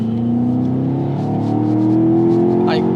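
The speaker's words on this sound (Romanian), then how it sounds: "mașina chiar e rapidă, chiar e avidă de turații, supraalimentarea intră forță" A turbocharged 2024 BMW X6 M Competition climbs steadily in revs under hard acceleration, heard from inside the cabin. The loud engine note rises smoothly and continuously, and someone talks over it.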